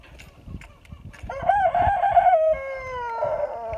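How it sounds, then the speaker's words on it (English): A rooster, including a newly acquired Copper Maran, crows loudly and close in a backyard, one long drawn-out call, with scattered chicken clucks before it in a yard also holding bee colonies. "Anyway, that's chickens."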